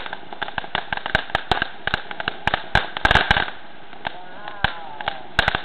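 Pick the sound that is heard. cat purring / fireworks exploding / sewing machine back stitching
fireworks exploding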